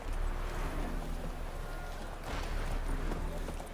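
Horses galloping in a race in the video game The Witcher 3: a steady, fairly loud wash of drumming hoofbeats and rumbling motion, continuous throughout with no clear separate strikes.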